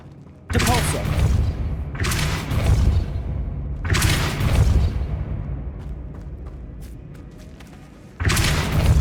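Repeated Depulso force spell blasts from the game Hogwarts Legacy, four loud booming bursts spaced about two seconds apart, each with a heavy low thump and a hissing tail, no talk.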